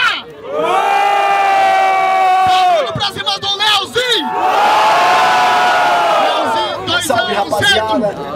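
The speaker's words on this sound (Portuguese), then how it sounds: "Barulho pra cima do LK!" Crowd at a rap battle in Barueri, São Paulo roaring with cheers and shouts, a long sustained swell of yelling voices that briefly drops and surges again, loud and close.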